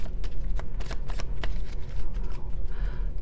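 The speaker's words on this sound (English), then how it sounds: "One more little shuffle." Tarot cards being shuffled by hand, a quick run of crisp riffling flicks and soft slaps at close range, with no talking over it.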